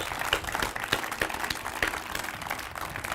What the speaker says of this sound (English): Let's give them a hand of applause in spirit